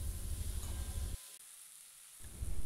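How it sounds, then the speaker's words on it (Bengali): Spice masala with tomato, salt and turmeric sizzles softly in a pan for an egg curry, the frying hiss dropping away for about a second in the middle before it resumes. "এবার মশলাটাকে ভালোভাবে কষাবো"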